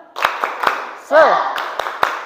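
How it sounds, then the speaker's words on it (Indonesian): A classroom of schoolchildren beats out a rhythmic spirit clap in short, sharp, evenly spaced claps, broken midway by a brief voice calling out before the clapping pattern resumes. "untuk mengetes semangat, kita tepuk semangat dulu ya"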